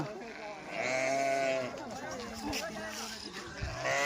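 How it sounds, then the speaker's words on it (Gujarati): Several sheep stuck in a river bleat loudly nearby, wavering cries overlapping one another, with people talking in the background. "જો કેટલા બધા ઘેટા"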